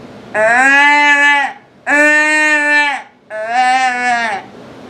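Three loud, long bleating calls from a deer call imitating a fawn, in quick succession, each wavering slightly in pitch, close-up and forceful with brief gaps between them.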